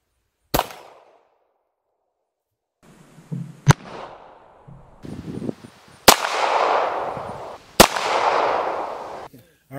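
Single loud, sharp gunshots from a .38 Special revolver fired into bulletproof drywall, with several separate cracks spread seconds apart. People talk and move around between the shots.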